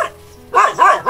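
Dog barking close and loud, two or three sharp barks in quick succession after a brief quiet moment.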